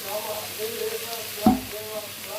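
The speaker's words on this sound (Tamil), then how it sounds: "இது நல்லா கோல்டன் ப்ரௌன் ஆகிற வரைக்கும் நல்லா வதக்கணும்" Onions and tomatoes sauté in a little oil in a pan for mushroom biryani, giving a steady low sizzle with a brief stir or clatter midway.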